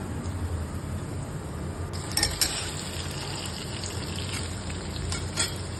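Garlic frying in a pan for Marathi-style dal fry, a steady close sizzle throughout with a few brief sharper crackles and spatters, no voices.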